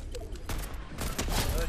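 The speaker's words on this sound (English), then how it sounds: "There's another team shooting at them." Distant gunfire from an enemy team in a video game, rapid clustered shots at moderate volume in a short burst, with voices in the clip.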